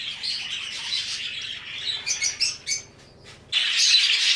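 Young nestling birds in an aviary chirp and peep, close and busy with rapid high calls, in a few louder clustered bursts, then a sudden steady hiss of background noise.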